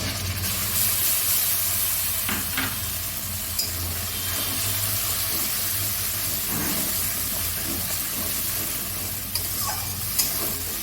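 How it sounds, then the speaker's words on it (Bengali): A steady sizzle and hiss of ground spice paste frying with onions in a pan, with occasional stirring scrapes and soft clinks, close and continuous. "আমি যে পেস্টটা করে রেখেছিলাম ওই পেস্টটা এবার এর মধ্যে দিয়ে দিই।"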